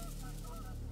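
Geese honk during a duck and goose hunt, a brief, steady chorus of calls heard outdoors at moderate distance.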